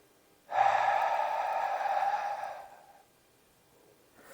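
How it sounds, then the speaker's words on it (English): A single long, breathy exhale lasting about two seconds, close and fairly soft, taken during squat and deadlift bracing practice, then fading into quiet. "Look what happens when I exhale."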